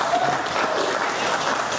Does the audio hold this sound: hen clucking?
no